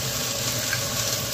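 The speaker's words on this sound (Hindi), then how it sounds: "ये कुकर में तेल गरम हो गया है और ये लाल खड़ा मिर्चा" Whole dried red chillies sizzle in hot oil inside a pressure cooker, a steady close crackling hiss that runs without a break and with no voices over it.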